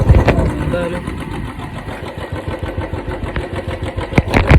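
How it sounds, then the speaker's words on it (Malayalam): A motorbike engine runs close with a loose silencer, its exhaust pulsing in a rapid, uneven clatter and knock, with a voice talking over it. "സൈലൻസർ ഭയങ്കരമായിട്ട് അടിക്കും. സൈലൻസർ അഴിഞ്ഞു വന്നിട്ടുണ്ട്."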